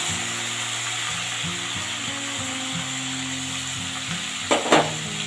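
A paste of tomato, cumin and ginger fries in a pan, with a steady close sizzle and crackle under a repeating mechanical ticking, and a brief louder scrape near the end.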